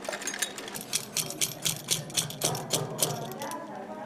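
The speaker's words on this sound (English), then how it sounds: "Here, women like Sosan learn skills such as sewing and weaving." A sewing machine runs in a women's shelter in Afghanistan, its needle mechanism chattering in a steady, rapid rhythm, loud and close throughout.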